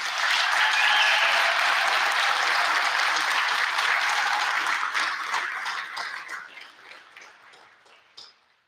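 An audience at a corrections officers academy graduation gives sustained applause. It starts full and dense, then thins out and fades over several seconds to a few scattered claps.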